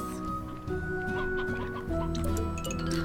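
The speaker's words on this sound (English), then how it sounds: "Rooster!" A rooster in the game Slime Rancher clucks in a short run of close, steady calls over a continuous tonal game soundtrack, with no speech.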